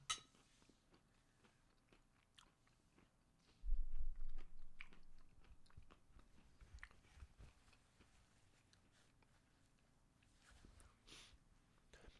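Close, crisp bites and chewing of a grilled cheese sandwich with bacon and chips, a loud burst of crunching followed by quieter intermittent chews and small clicks in a quiet room.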